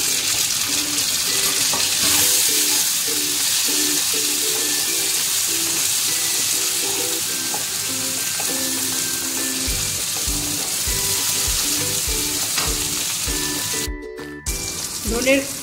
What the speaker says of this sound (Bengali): টমেটো কুচি দিয়ে দিলাম,